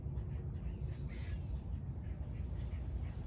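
Crows caw several times in the distance over a low, steady background rumble outdoors, with the harsh calls faint and irregularly spaced.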